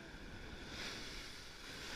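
Ocean waves wash and hiss in a steady surge at La Union, Philippines, moderately distant, with wind in the background.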